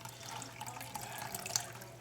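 Water poured into a container lined with aluminum foil and baking soda, a faint steady trickling and splashing running continuously and quietly throughout.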